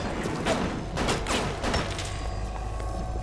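Gunfire in the video game Bioshock sounds as a burst of loud, dense shots with booming low end and ringing tails, several reports rolling together over a few seconds.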